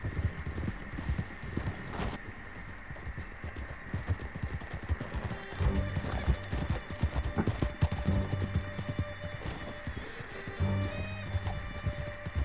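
Horses galloping in Red Dead Redemption 2, a steady drumming of hoofbeats with a rapid rhythm, close and continuous over a background of ambient noise.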